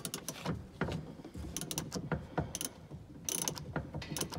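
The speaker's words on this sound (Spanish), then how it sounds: "Aflojamos esa tuerca que está muy apretada." Repeated clicking ratchet strokes from a long wrench working loose a very tight nut on a rear shock absorber of a 2005–2012 Chevrolet/Daewoo Lacetti Optra, close and irregular, with short pauses between pulls.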